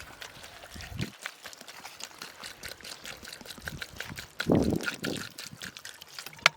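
Water is poured over palm fruit in a bowl while making halwa, giving a light trickling splash with a fuller gush near the end, close by and with no talking.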